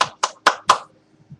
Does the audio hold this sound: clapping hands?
yes